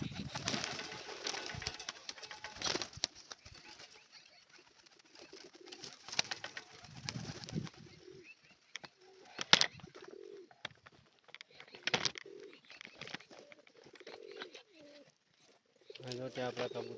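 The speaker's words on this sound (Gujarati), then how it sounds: "થોડાક કબૂતર આપણા અહીં બેઠા છે તેને નીચે ઉતારી." Pigeons coo softly on and off amid faint wing flutters and scattered household noise, with brief bursts of louder sound at intervals.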